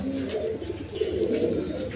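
Pigeons coo in a low, soft, rolling series, close by and continuous, without voices.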